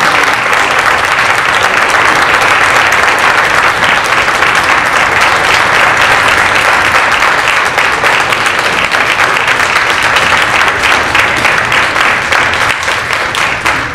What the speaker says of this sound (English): But I would like to ask everybody to give our panelists a hearty round of applause.